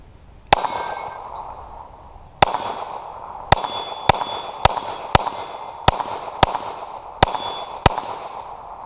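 Federal 147-grain hollow point rounds fired from a Smith & Wesson M&P9 2.0 Metal Spec Series pistol with a compensator: nine sharp, loud gunshots, one early, then a quicker irregular string with ringing decays.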